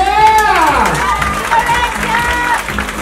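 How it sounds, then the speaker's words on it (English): A crowd at the Miss International Queen 2020 pageant claps and cheers for the finalists, loud and sustained, with high whooping cheers and shouts rising over the steady applause. "Can we have a big round of applause for everybody in the back?"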